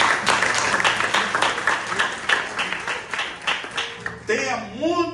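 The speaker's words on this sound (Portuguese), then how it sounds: "Aplausos a Jesus por isso." Congregation applause during a family church service, dense rhythmic clapping filling most of the stretch before a voice rises at the end over it.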